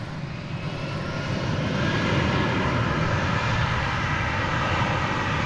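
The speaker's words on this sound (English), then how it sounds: "Japan Airlines Flight 12 coming in from Haneda Airport in Tokyo" A Japan Airlines Boeing 777 jet on final approach to land at DFW Airport after a long-haul flight from Tokyo Haneda, its engines a loud, steady broadband roar that swells slightly and holds, with no talking.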